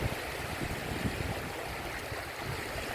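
Large ocean waves churn, rush and splash loudly and continuously up close, a broad roar of surf with no talking.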